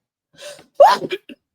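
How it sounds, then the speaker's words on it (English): A single short sneeze from a woman, preceded by a quick sharp inhale and followed by small breathy sounds, close and clear against silence. "I feel like I was about to sneeze."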